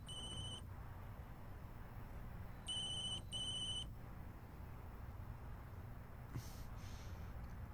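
A telephone rings with an incoming call, two electronic ringtone bursts heard fairly close over a low background hum, then a faint brief sound near the end.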